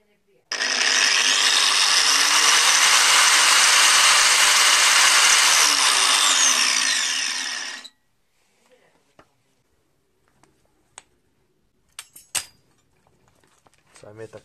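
An Einhell TC AG 125/850 angle grinder, 850 watts with a 125 mm disc, runs free for about seven seconds with a loud, steady high-pitched whine, then cuts off and is followed by a few faint clicks and handling knocks.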